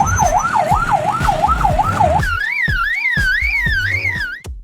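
An Australian lyrebird mimics an ambulance siren, a loud wailing tone that swoops up and down in a steady repeating cycle, first lower and quicker, then higher, near and unaccompanied by speech.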